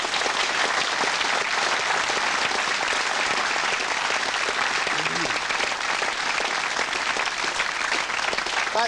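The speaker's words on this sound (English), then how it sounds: "Getting applause." Loud, steady applause from a television studio audience fills the whole stretch, dense clapping with no break and no voices on top.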